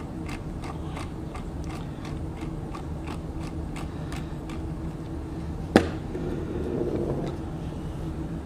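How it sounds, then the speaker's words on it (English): A hand ratchet loosening the cylinder head bolts on an ET8 engine, a steady run of evenly spaced clicking strokes close up, then a single sharp metallic clack as a bolt breaks free, with no talking. "get the rest of the head bolts out, pop the head off"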